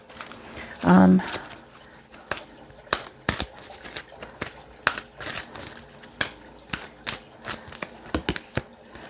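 A deck of cards is shuffled by hand in a quiet room, with a brief burst of riffling, then a run of sharp, irregular snaps and taps of cards close to the mic.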